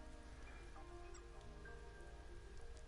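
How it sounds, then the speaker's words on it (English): Steady rain falls in the video game Blue Reflection, a dense, even patter that runs continuously at moderate level with no talk over it. "Oh, it's raining."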